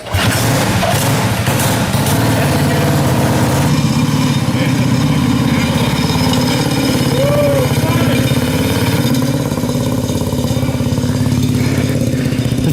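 A 20HP Nascar go-kart engine runs steadily and loudly at close range, a continuous mid-pitched motor drone with no breaks, with a few faint voices underneath.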